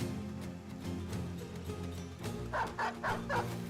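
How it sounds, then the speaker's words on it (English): Short dog barks and yips from the video game Battle Brothers, three quick bursts near the end over steady game music. "I think release the dog right now would be a good idea."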